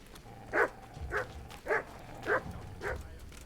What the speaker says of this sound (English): Oh, it's the dogs again.